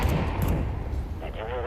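Grenade blast in a video game, a dense low rumbling burst that fades over a second or so, followed by faint wavering tones.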